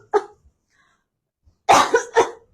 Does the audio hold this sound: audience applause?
no